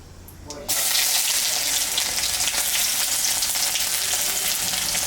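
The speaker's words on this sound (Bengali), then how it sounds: "পেঁয়াজটা একটু লাল করে ভেজে নেবো" Onions frying in a pan of hot oil with whole cumin, two dried red chillies and a bay leaf, a steady loud sizzle that bursts in after a quiet start and hisses on without pause.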